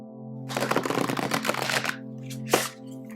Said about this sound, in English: So let's see how they shuffle.